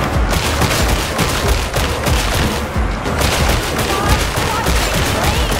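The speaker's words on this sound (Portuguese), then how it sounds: "Uma arma semi-automática, tá?" A semi-automatic weapon fires repeatedly in Warhammer 40,000: Darktide, a loud, dense stream of shots and combat noise running without pause through the whole stretch.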